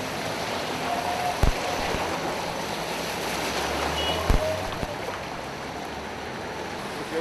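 Water gushing from a main pipe broken by an excavator onto a city boulevard, a continuous broadband rushing roar, with a couple of sharp knocks breaking through it.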